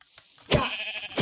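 A sheep in Minecraft hardcore mode gives a short, loud bleat up close. A second brief bleat comes right after it, and no one speaks.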